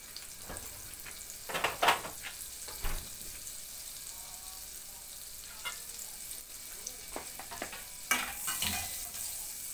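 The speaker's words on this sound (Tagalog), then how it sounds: "Maglagay lang tayo ng kunting butter lang." Butter sizzling in a frying pan for a budget Filipino dish, a low steady hiss with scattered louder crackles and pops, fairly faint throughout.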